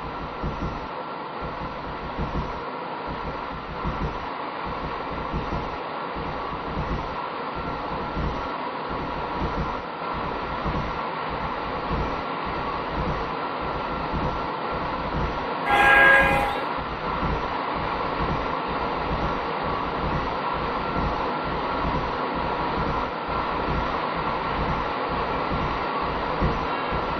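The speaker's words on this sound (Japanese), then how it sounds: "電車が発車いたします" An Odakyu 3000 series electric multiple unit on the Odawara line in a railway simulator game pulls away, its motor hum and rhythmic wheel clatter steady throughout, with a brief chime partway through.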